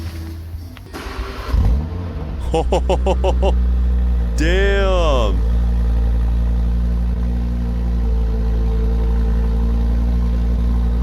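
A fast European crossover engine starts and revs hard around two to five seconds, with rising and falling pitch sweeps, then settles into a loud, steady idle rumble; a brief exclamation is heard near the start.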